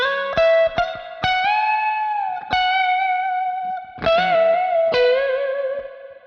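An electric guitar played through a Kemper Profiler amp profile set to low gain with spring reverb, giving a clean tone: a few picked notes and sustained chords ring out, with reverb tails between attacks, alone and fairly loud.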